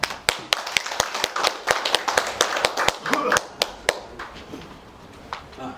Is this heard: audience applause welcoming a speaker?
yes